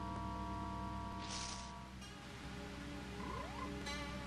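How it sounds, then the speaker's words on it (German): A toad croaks in a swamp in the video game Zelda: Majora's Mask. Low, pulsing croaks sit over a steady ambient drone, with a soft hiss rising briefly in the middle. "Oh, eine Kröte."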